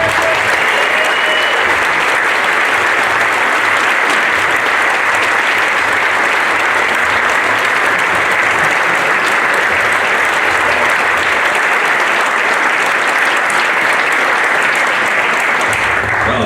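A large audience at a Hall of Fame ceremony breaks into sustained, loud applause, welcoming a former Major League umpire; the dense clapping holds steady the whole time without letting up.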